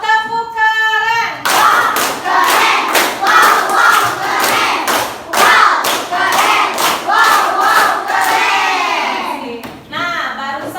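A fourth-grade Indonesian class performs the tepuk keren clapping chant: loud, close, rhythmic bursts of many hands clapping together in a patterned beat, mixed with children's shouted chanting voices and a teacher speaking at the start and end.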